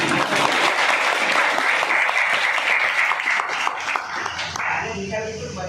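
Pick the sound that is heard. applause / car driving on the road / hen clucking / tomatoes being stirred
applause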